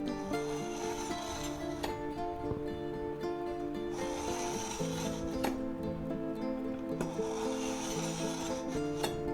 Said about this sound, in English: we'll take our aceti knife here, the Santoku, and we'll go ahead and sharpen it